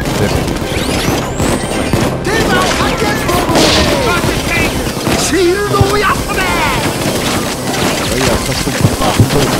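Shotgun blasts and dense gunfire crash in the heist game Payday 2, loud overlapping booms and impacts over a busy, chaotic in-game din with constant layered noise.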